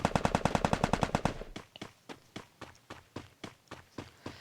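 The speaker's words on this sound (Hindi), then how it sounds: "तभी मुझे सामने से फायरिंग शॉट सुनाई दिए।" Gunfire in the video game Free Fire: a fast burst of automatic shots, then a slower run of single cracks spaced evenly, moderately loud with no talk.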